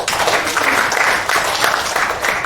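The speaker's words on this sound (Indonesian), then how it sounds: "Tepuk tangan untuk kemuliaan." An audience breaks into continuous applause at a church-style breakfast meeting, a dense, steady wash of many hands clapping together that holds at full loudness throughout, with no voices heard over it.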